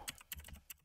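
Soft rapid keystrokes on a computer keyboard while code is entered, a few quick faint taps in close succession.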